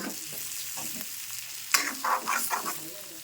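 Ridge gourd fries in a small amount of oil in a pan. Soft sizzling runs under scraping stirs that grow louder and more frequent in the second half.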